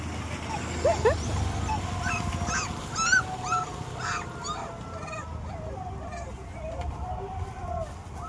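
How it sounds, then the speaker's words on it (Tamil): A puppy that has fallen in cries with repeated high, wavering whines and yelps, fairly near, over a steady low background rumble with faint voices. "இன்னொரு குட்டி கத்துது"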